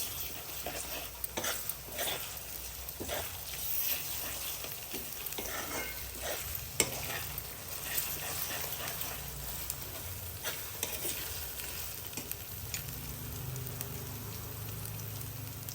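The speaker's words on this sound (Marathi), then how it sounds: "आता याच्यात आलं, लसूण, जिरे, कोथिंबीर वाटलेली पेस्ट टाकते. 1 मिनिट परतून घ्यायची." A ginger, garlic, cumin and coriander paste fries with onions for khas khas bhaji, giving a steady close sizzle with light stirring scrapes throughout.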